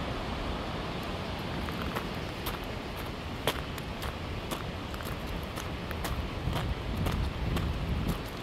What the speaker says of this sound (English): I didn't know it was supposed to get windy.